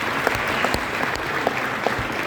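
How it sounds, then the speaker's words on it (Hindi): Steady applause from an audience at an MLM training seminar, a dense wash of many hands clapping together with a few sharper claps standing out, sustained and even throughout with no talk over it. "एक जोरदार ताली बजाइए इनके लिए।"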